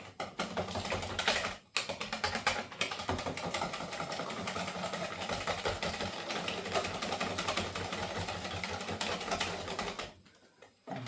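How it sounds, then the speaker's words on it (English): Yorkshire pudding batter being whisked hard in a bowl, a steady, dense rapid scraping and tapping that runs almost without pause and stops briefly near the start and again near the end. "I really want to give it a good mix in this bowl and get all the lumps out of it"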